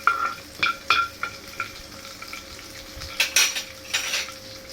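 Dried red chillies frying in a pan for tomato rasam, with a light steady sizzle under repeated clinks and scrapes of a metal spoon stirring against the pan, close and moderately loud.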